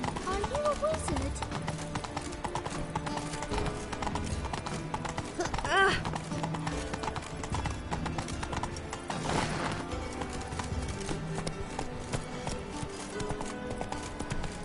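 Horse hooves clip-clop steadily in a PS4 video game, with a loud, continuous rhythmic gait, a brief neigh, and game music and voices running underneath.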